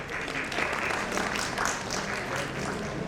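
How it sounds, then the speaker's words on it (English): Steady applause from the audience at a DevFest Pune 2024 tech talk on JavaScript and Deno, a continuous wash of many hands clapping at moderate volume with no speech over it. "Please give him a round of applause."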